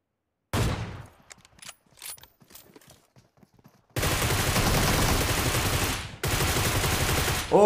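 PUBG gameplay gunfire: a spaced burst of nearby shots with mechanical clicks, then long, loud, sustained automatic fire that breaks off briefly and resumes.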